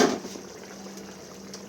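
Mushroom masala simmers under a lid in a covered pot, giving a brief faint bubbling that fades quickly into a low, steady hiss.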